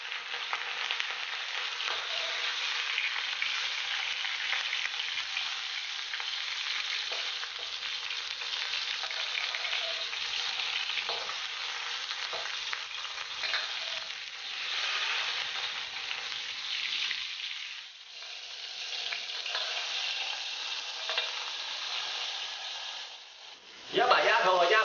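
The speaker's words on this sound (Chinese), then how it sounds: "油热后鸭皮朝下，把鸭子放进去煎一下。" Duck pieces laid skin-side down in hot oil in a wok give a continuous loud sizzle that runs for the whole stretch, with a person talking over it.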